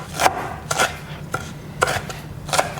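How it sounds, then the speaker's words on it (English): A knife chopping celery leaves finely on a board, five or six crisp separate strikes at an uneven, unhurried pace, close and clear with no talk. "I'm going to chop these up finely"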